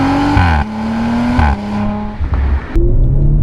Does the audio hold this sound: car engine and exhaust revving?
yes